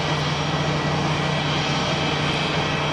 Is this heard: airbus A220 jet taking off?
yes